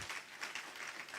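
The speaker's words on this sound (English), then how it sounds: "Oh, I thought you would clap well." Audience applause at a university department event (Department of Water and Sanitation), a steady wash of clapping at moderate, fairly distant level throughout.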